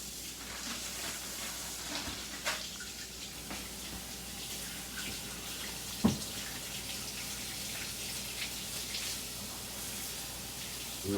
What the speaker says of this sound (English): So what you want to do is wash it